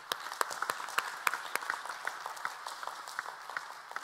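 Light, scattered applause from a modest audience at a fashion forum panel session, fairly faint, with individual claps standing out in an uneven rhythm for a few seconds.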